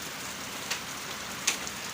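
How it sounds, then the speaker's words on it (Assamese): Rain falling steadily in a hill village in Arunachal, a soft constant patter with a couple of sharper drip ticks, fairly quiet and heard alone. "জাষ্ট বৰষুণ দি আছে ক'তো ওলাব পৰা নাই"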